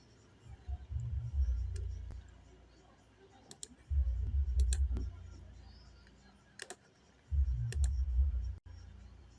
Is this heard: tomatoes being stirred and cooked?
no